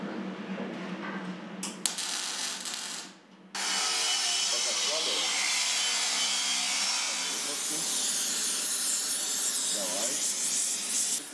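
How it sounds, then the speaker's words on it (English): A welding machine at work, a loud, sustained crackling hiss that drops out briefly and then resumes in a steady roar, close by, with no speech. "knows how to operate a welding machine"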